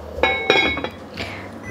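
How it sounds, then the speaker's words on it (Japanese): A few metallic clinks and clanks of a lid settling onto a pot of rice porridge cooking on low heat, with a brief scrape afterward against a quiet background. "蓋を閉めて、"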